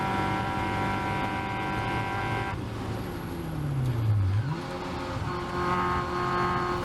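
A Caterham race car on a track during a Pacific Northwest race in 2021: a steady engine drone drops sharply in pitch, then climbs again as the throttle comes back on exit, loud and close with no voices.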